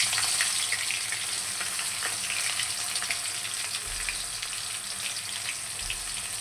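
Chopped onion and green chilies fry for a chicken curry, giving a steady, close, even sizzle that carries on without a break.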